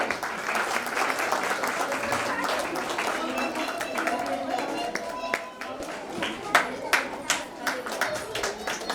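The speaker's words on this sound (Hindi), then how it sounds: "तालियां बजाते रहे" An audience at a school cultural gathering keeps up a dense, steady round of clapping, thinning toward the end into louder scattered individual claps, with talking faintly mixed underneath.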